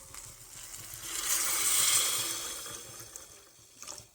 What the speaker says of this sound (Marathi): आता पाणी टाकूया आपल्याला पाहिजे तेवढं